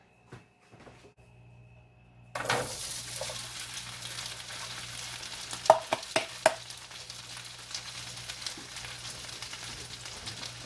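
Carrots and brown sugar frying in melted butter in a pan, a steady sizzle starting after a quiet moment, with a few sharp clinks and stirring scrapes over the hiss.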